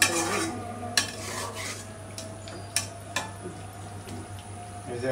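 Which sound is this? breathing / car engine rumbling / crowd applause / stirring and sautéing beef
stirring and sautéing beef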